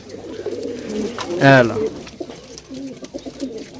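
A double mor pigeon gives a short, throaty coo partway through, close by, with people talking over and around it.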